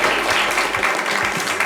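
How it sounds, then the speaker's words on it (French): Loud audience applause in a studio show setting, a thick continuous roar of clapping close by, with a low rumble beneath and no clear speech. "On peut l'applaudir très très fort"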